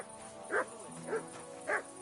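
A dog in the Kingdom Come Deliverance 2 video game gives three short, evenly spaced yips or barks, faint and fairly distant, with no voices.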